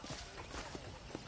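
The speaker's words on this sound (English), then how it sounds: "let's see if you can still ride a horse" Horse hooves clip-clop in a Red Dead Redemption ranch scene, a quiet, uneven series of soft thuds at walking pace over a low background wash.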